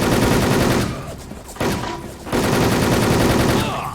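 Sustained gunfire from the online shooter WolfTeam, loud bursts of automatic fire filling nearly the whole stretch, briefly easing around the middle before resuming at full intensity.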